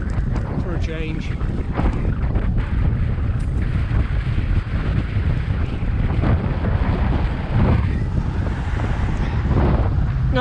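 Strong wind buffets the microphone in a loud, continuous roar throughout, beside a busy river road.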